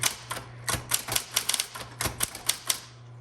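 Typing on a 1960s Smith Corona Electra 110 electric typewriter: sharp key strikes come quickly and unevenly, close and loud, over the steady hum of the motor.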